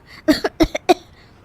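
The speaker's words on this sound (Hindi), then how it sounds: "दोनों खांसने लगती है।" Two women coughing in quick bursts, three or so sharp hacks in rapid succession, close by and fairly loud against a quiet background.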